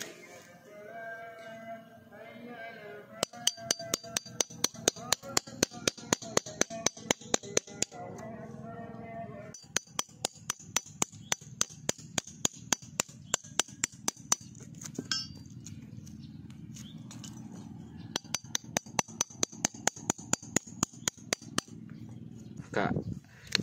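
Chisel tapped into a thick, old Ficus microcarpa bonsai trunk with rapid runs of sharp, close hammer strikes in several bursts, separated by pauses with a voice talking.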